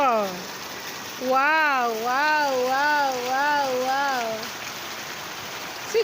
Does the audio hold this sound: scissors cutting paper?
no